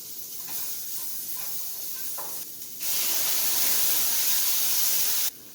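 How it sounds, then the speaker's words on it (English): Apples and chopped onions caramelize in a pan with a steady, close sizzle and hiss that swells louder partway through and holds until a brief drop near the end; no voices. "Along with the apples, I'll add in some chopped onions to caramelize as well."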